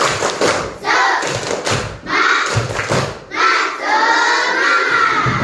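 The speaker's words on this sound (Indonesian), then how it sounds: "Tepuk semangat." Classroom of students doing a rhythmic spirit clap chant, loud group claps and shouted chanting in short bursts, close and energetic.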